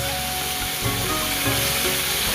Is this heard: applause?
no